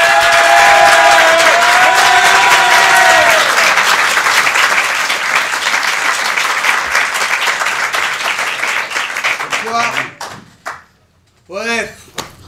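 A studio audience gives a comedian a loud, sustained round of applause on stage. It fades over several seconds, and a voice speaks as it dies away.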